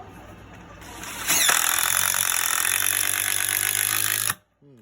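A DeWalt impact drill drives a 3/8 inch bolt with a loud, steady rattling hammer that runs for about three seconds before stopping abruptly, with no talk over it.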